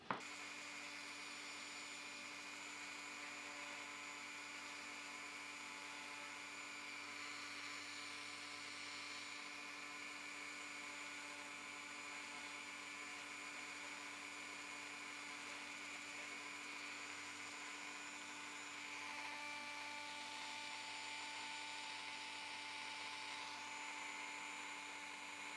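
A Dremel rotary tool with a small burr whines at a steady high pitch while carving wood. The sound is faint, continuous and even throughout, with no talking.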